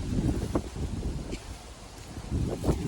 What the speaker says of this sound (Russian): если нас плохо слышно, вы извините, потому что здесь ветер